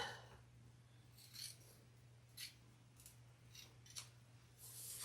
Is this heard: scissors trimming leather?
yes